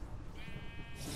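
A single sheep bleat from the Minecraft video game, a short wavering cry that sounds close and moderately loud and stands alone without any talk.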